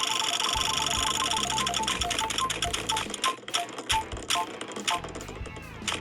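A prize wheel spins with rapid mechanical ticking that gradually slows into spaced clicks, loud and close, over a busy music bed.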